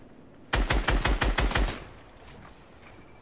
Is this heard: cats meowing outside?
no